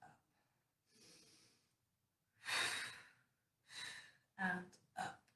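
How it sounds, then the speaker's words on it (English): Deep, audible breaths in and out during a Pilates stretching exercise, several separate inhales and exhales close to the mic, with quiet gaps between them. "it's just going to be breathe in and breathe out"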